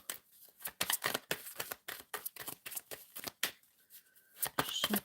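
Close, crisp shuffling of a tarot deck at a live card reading, with rapid papery bursts arriving in irregular clusters and a short quieter gap near the end.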